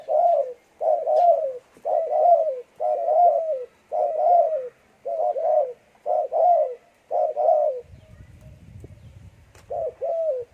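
A spotted dove kept as a decoy bird cooing close by in a steady series of about ten short, soft, rolling coo phrases, with a brief rustle in one gap.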